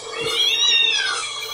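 A cartoon cat from the Ejen Ali animated series gives a single drawn-out meow, rising and then falling in pitch, heard clearly over a faint low background hum.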